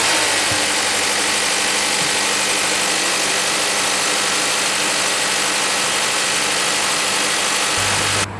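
A 2026 Honda Civic Hybrid with its 2-liter hybrid engine running steadily, a loud, even mechanical hum and broadband noise held throughout with no talking.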